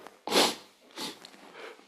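A single sharp sneeze bursts out close by, followed by a couple of softer sniffs and breaths.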